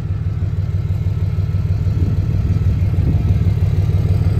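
A vehicle engine runs rough from a clogged fuel filter, idling with a loud, close, steady low rumble and uneven pulsing throb, heard alone without talk.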